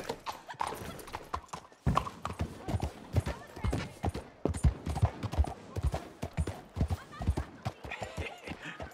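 Horse hooves clip-clop in Red Dead Redemption 2 in an uneven, continuous rhythm close by, with voices speaking intermittently over the hoofbeats.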